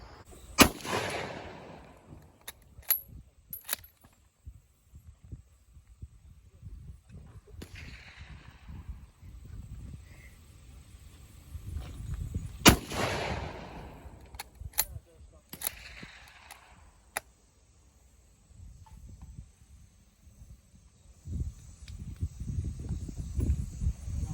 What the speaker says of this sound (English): that was me shooting the rifle